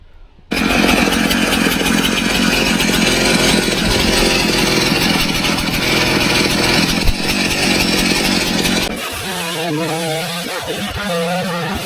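A Stihl MS 391 chainsaw cuts into a dirty tree stump during a stump grinding job, running loud and steady at full throttle for about nine seconds before easing to a lower, uneven idle near the end.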